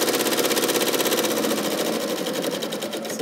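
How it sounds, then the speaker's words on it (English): A sewing machine runs in a steady, close rhythmic whir while stitching TILDA fabric for a house-shaped pomander, continuous throughout with no talking. "then we're going to stitch up here again."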